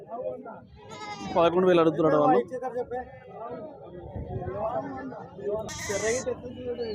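A goat lets out a loud, wavering bleat close by at a weekly goat market, with people talking throughout and a few fainter animal calls around.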